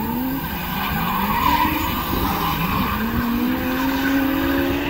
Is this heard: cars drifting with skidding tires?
yes